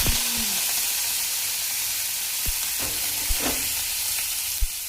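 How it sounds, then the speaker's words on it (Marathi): Cumin and mustard seeds spluttering in hot oil with curry leaves added, a steady loud sizzle broken by sharp, scattered pops and crackles, close up with no talk. "ती तडतडली की लगेच कढीपत्ता टाकायचा"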